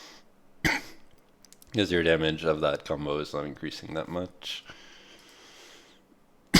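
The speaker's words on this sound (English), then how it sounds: "Sorry, I'm coughing so much." Coughing and throat clearing from a person with a cold: sharp, close single coughs at the start and end of the clip, around a stretch of speech.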